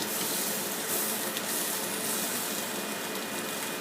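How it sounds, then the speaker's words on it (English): Steady hiss of steam rising while hot dogs cook, a continuous broadband rushing sound at an even level throughout, close and alone with no talking. "I think this is steam, but I don't know"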